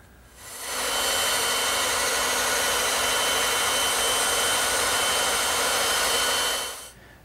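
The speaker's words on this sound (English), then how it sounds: "Then I'll rough them out on the bandsaw." A bandsaw cuts through wooden wheelbarrow handles to rough out the grips. The steady, loud whine starts up, holds evenly for about six seconds, then winds down with no talking.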